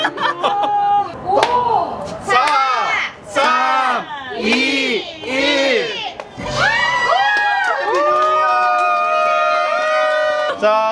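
An excited crowd at a New Year drone show over Gwangan Bridge, Busan, screams and cheers loudly, with shrill overlapping voices rising and falling throughout, close by and sustained.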